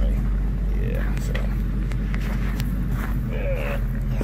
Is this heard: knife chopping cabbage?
no